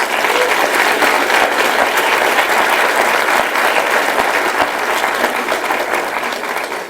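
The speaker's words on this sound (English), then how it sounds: "please give yourselves a round of applause" Students and teachers give a sustained round of applause, a dense, steady wash of many clapping hands at full strength that holds for several seconds before easing slightly at the end.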